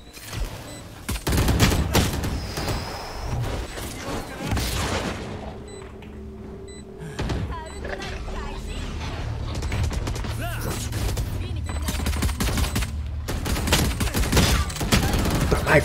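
Gunfire from the tactical shooter Valorant, with bursts of shots and impacts scattered through a busy round, mixed with game effects and players talking over it.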